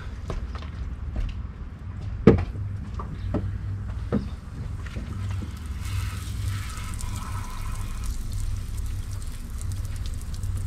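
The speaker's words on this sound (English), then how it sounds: "Don't want to use too much water on this, just enough to rinse it." A garden hose rinses soap off a Corvette TPI aluminum intake plenum outdoors, water spattering and splashing in uneven bursts with a few sharp knocks, then a steadier spray toward the end.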